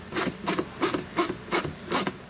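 Ratchet wrench turning a car battery terminal nut on a 2011 Chrysler 200, six evenly spaced rapid clicking bursts, close and clear with no talking.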